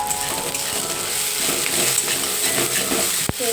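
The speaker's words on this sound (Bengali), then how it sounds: "পেঁয়াজ রসুন কড়াইতে দিয়ে দিলাম, ভাত আছে, ভাতগুলোকে ভাজবো" Rice fries with onion and garlic in a wok, a constant close sizzle with scraping stir strokes and one sharp knock near the end, with no voices.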